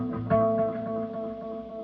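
Roland Space Echo RE-201 tape echo with a badly worn tape, giving a dense, smeared wash of repeating tones with a sharp attack near the start that decays into murky, distorted echoes, close and steady.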